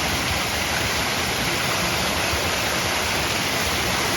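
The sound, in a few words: strong water flow inside a mine tunnel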